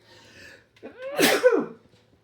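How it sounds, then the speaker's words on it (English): A single close, loud sneeze with a breathy inhale building into a sharp burst, then quickly fading to quiet. "I'm going to sneeze."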